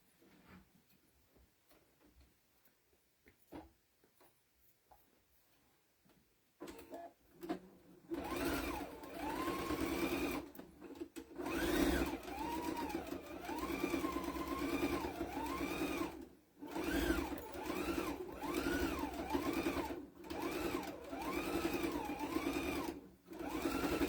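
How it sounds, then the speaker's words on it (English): A sewing machine stitches fabric for a couch pincushion, running in steady rhythmic bursts with brief pauses after a quiet stretch of handling at the start, motor hum and needle ticking close and clear. "I'm going to sew on 3 sides all the way around and leave an opening here to put fiber fill in"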